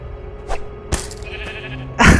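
Sheep bleating in the Minecraft Story Mode video game, several short bleats spaced across the clip, the last one louder and closer, over quiet game background ambience.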